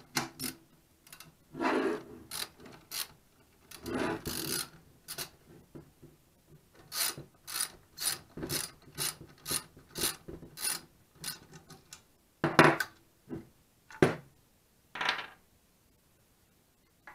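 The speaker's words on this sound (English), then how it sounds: "Take that nut off, the stock just slides off." A nut is worked off the stock of a 12 gauge break action shotgun, a long series of close, dry scraping and rasping turns with short pauses and a few metallic clicks, no talking.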